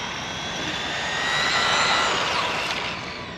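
A Traxxas Mini Slash RC car run at full throttle in the desert, its electric motor a loud steady high-pitched whine that swells and fades slightly as it passes.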